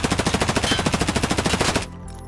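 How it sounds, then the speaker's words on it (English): Escape from Tarkov MP5 submachine gun emptied in one continuous full-auto burst, about twenty evenly spaced loud shots in under two seconds, then a quiet mechanical tail as firing stops. "I'm going to go ahead and dump this mag and go through the reload animation for an MP5."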